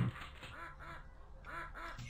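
Ducks quacking in the 3DO video game Killing Time, a run of repeated nasal quacks in short bursts with brief gaps, fairly close and clear against a low background hum.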